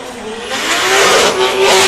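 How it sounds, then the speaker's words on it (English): A turbocharged drift car at a wet Teesside drift championship qualifying round revs on and off throttle, with a loud, close engine roar and fluttering, chattering hiss from the turbo wastegate rising over two seconds. "As you can hear the wastegate chatter there."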